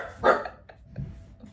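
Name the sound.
dog barking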